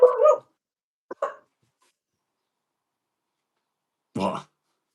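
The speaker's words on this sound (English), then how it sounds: "Did you hear the dog bark?" A dog gives a few short, sharp barks in separate bursts with long pauses between them, heard faintly at a distance with no talk.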